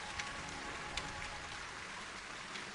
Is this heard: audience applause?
no